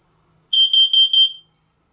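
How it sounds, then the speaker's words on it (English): A carbon monoxide detector in a workshop sounds a short run of four sharp, loud high-pitched beeps in quick succession, then falls silent. "There goes my carbon monoxide detector."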